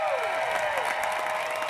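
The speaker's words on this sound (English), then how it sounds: "Give a round of applause to our seniors" Audience applause and light cheering at a high school graduation ceremony for the Savannah Arts Academy class of 2021, a steady wash of clapping heard at moderate distance, fairly quiet.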